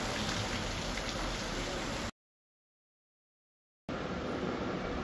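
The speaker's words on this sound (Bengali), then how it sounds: "দেখেন অনেক ভালো পরিমাণে বৃষ্টি নামছে" Heavy rain pours down in a dense, steady hiss, broken by a sudden total silence of about two seconds before resuming at the same strength.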